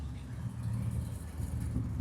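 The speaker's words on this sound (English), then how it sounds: "Definitely a good exhaust on there. Straight pipes." Camaro SS with a 350 small block V8 and straight-pipe exhaust idling at a cars-and-coffee meet, a faint steady low burble with no talk over it.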